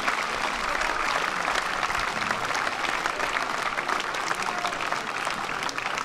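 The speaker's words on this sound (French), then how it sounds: "Et on peut l'applaudir" An audience at a Basque strength-sports event in Saint-Palais applauds in a steady, even wash of clapping that lasts the whole stretch without a break.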